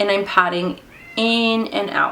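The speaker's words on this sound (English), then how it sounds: "You can hear my cat meowing." A cat meows from behind a locked door, two long, loud, tonal cries with a short faint one between them, while someone talks in the room.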